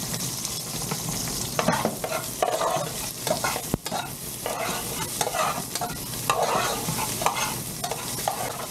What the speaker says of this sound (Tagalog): Sigit natin ang ating sibuyas.